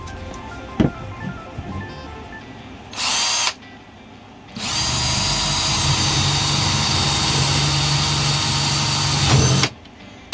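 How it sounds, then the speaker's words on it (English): A 3/8 drill bit boring a hole for a homemade jewelry holder, with a short whine of the power drill, a pause, then a long, loud, steady drilling run that cuts off abruptly. "I'm gonna take a 3/8 drill bit, and I'm gonna drill a hole."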